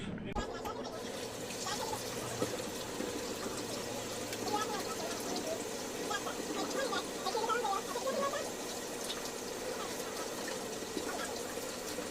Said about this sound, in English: let's wash my hands